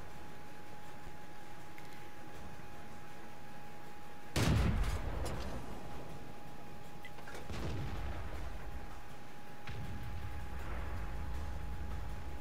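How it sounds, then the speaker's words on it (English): Artillery fire in the tank battle video game World of Tanks, a sudden heavy boom followed by a few fainter distant blasts over a low ambient hum. "Artillery is laying in fire over there."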